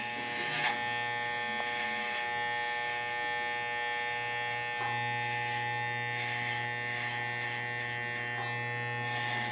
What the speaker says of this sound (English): you'll start with the number 1 clipper guard